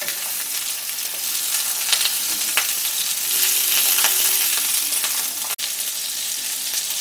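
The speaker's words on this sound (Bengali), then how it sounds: "লাউটা ভাজা হয়ে গেছে" Bottle gourd frying in a pan until browned, a steady close sizzle with occasional soft stirring clicks and no voices.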